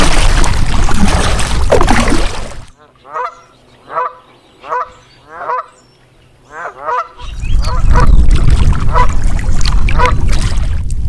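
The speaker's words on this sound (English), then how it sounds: "The geese like it." A small flock of geese honks in several loud, close bursts from a lake point in Texas, framed before and after by steady water and paddling noise from a boat.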